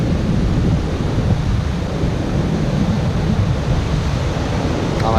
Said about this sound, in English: You just can't turn your back on waves like these